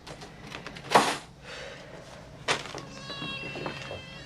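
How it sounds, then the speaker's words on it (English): A cat meows a few times close by, short rising cries spaced out over a few seconds, with some household clatter in between. "Cats."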